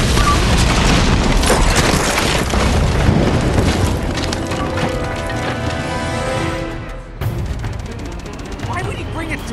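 A tank firing in the video game Uncharted 2 sets off a loud, booming explosion, with dense rumbling debris that fills the first seconds, then a sharp drop and a lingering tail.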